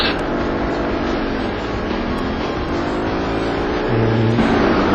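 Touring cars rumble on a formation lap at Snetterton in the racing game rFactor, a continuous droning engine hum with a steady pitch that swells slightly near the end, with no voices.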